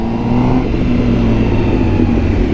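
A Honda Fireblade sports bike's engine and exhaust hold a loud, close, steady high-revving drone for a couple of seconds, with no voices over it.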